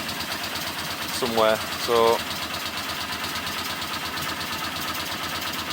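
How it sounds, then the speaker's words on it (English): Honda GL500 (CX500) motorcycle engine idling steadily with a faint irregular exhaust popping, close by, a voice briefly speaking over it. "but we're still getting this exhaust popping"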